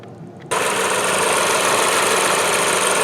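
Renault Avantime 2.0T with the F4RT engine idling after its auxiliary belt has been removed, starting abruptly after a quiet half second, then a steady, dense mechanical hum with fine rapid ticking, close and even throughout.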